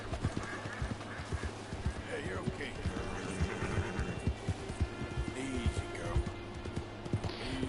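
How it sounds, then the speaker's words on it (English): Steady clip-clop of horse hooves at a brisk, rhythmic pace, close by, with a voice talking over it, in the video game Red Dead Redemption 2. "something spooked my horse."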